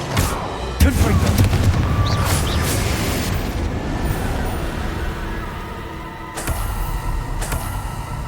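A Confringo blast curse in Hogwarts Legacy lands with a loud booming impact, then a long rumbling fiery decay, followed by a second sharp hit and crackle.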